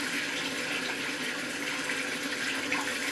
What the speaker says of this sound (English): So just rinse that first lot off.